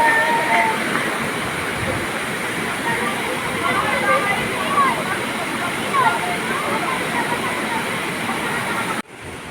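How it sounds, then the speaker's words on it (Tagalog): Sprite Falls, a waterfall in a wooded area, roars as a steady, loud broadband wash of falling water that continues nearly the whole time before cutting off abruptly at the end. "Ito na yung Sprite Falls."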